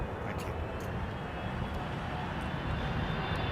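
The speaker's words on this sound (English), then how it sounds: "There's a lot of BA jets taxiing towards the runway" British Airways jets taxiing toward the runway at windy London Heathrow, a steady broad engine rumble and whine holding level throughout under gusty wind noise.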